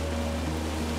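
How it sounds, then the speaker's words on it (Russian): A nearby waterfall in the game Firewatch pours as a steady, full broadband rush with a low rumble underneath, constant and unbroken throughout. "Здесь рядом очень красивый водопад."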